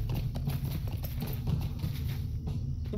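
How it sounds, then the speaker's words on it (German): Galloping horse hooves from the video game Lord of the Rings, a steady rapid clip-clop beat running loud and continuous for about three seconds with no talk. "Da sieht man mal, wie schnell das geht mit dem Pferd."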